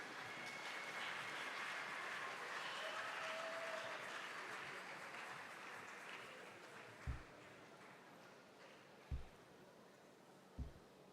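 Faint applause from a distant crowd at a choral festival competition that slowly dies away, followed by a few soft, isolated low thumps.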